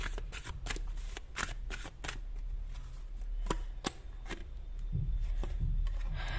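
Tarot cards are shuffled and drawn by hand in a quick, close run of crisp riffling snaps and soft slides. The strokes are steady at first, then turn to a few slower card draws with light thumps.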